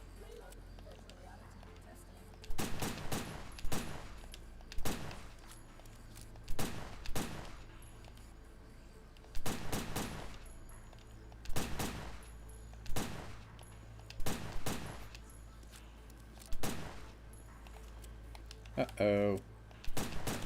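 Gun-mode shooting in Neptunia x Senran Kagura: Ninja Wars: sharp bursts of rapid gunfire come in regular volleys every couple of seconds over a quiet game background, with a brief spoken exclamation.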